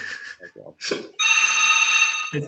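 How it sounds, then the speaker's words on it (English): A telephone rings indoors during a conversation, its steady trilling bell sounding for over a second after people speak briefly, fairly loud and close. "there's a phone ringing."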